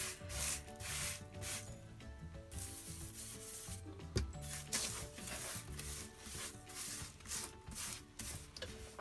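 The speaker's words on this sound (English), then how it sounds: "I'm now just going to wash my hands so crumbs don't come off my hands onto the clay" Hands being washed to keep crumbs off air-dry clay during card making, a steady close rubbing and scrubbing with water running underneath, continuous for several seconds with no talk.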